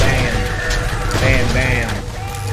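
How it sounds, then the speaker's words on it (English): Pistol fire in Borderlands cracks out amid a dense, noisy firefight, with repeated bangs blending into steady game clamor and some voices mixed in. "Can I kill him with a pistol?"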